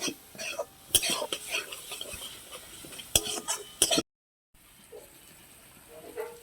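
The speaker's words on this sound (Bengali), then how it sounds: "ভালো করে মিশিয়ে নিচ্ছি" Fish roe curry being stirred in a pan after salt, red chilli powder and cumin go in, close scraping and clinking of a spoon with light sizzle, a brief silent gap, then quieter stirring.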